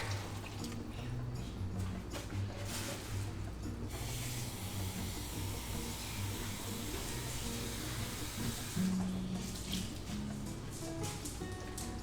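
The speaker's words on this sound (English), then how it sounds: "Okay, we're adding 2 cups of water." Steady hissing rush of water pouring into a pot, continuous for the whole stretch, with faint kitchen clatter underneath.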